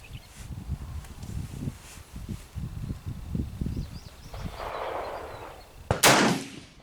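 A single loud, close rifle shot from a 1903A4 during load testing cracks out near the end after a stretch of quiet outdoor rustling and handling noise, followed by a short ringing tail.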